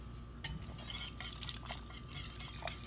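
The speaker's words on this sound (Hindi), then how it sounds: "इससे बीटर से फेंटूँगी" Whole black masoor dal mixed with green chilli and tamarind pulp is whisked with a hand beater, a soft, steady churning and light metallic clinking, fairly quiet and close, with no talk.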